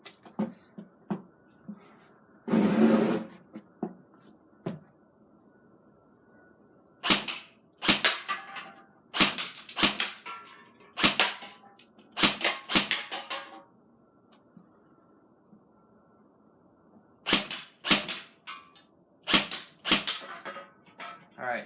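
A G&G CM16 Raider airsoft rifle fires at cans 30 to 40 feet downrange: sharp snapping shots, some single and some in quick bursts, separated by pauses, recorded near the gun with no voices.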